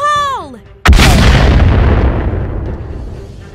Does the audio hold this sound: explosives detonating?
yes